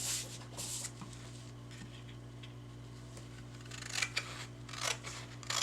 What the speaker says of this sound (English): Right now I'm going to cut that off.